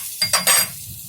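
Salted butter hitting a hot pan, with three quick bursts of frying hiss followed by a soft, steady low sizzle. Close by, with no talking.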